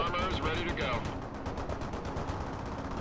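Gunfire in World in Conflict, a real-time strategy game: a steady mix of rapid shots and bursts that runs through the whole span under game voices and battlefield noise.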